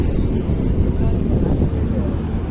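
Passenger special train 06543 pulls out of Chamarajapuram station on the Mysuru–Chamarajanagar run, with a loud, steady low rumble of carriages and a thin high wheel whine running throughout.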